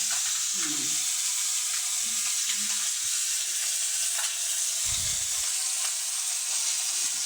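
Black cumin (nigella) seeds tempering in hot oil for a fish dish give a loud, continuous close sizzle, with faint low thumps and murmurs underneath.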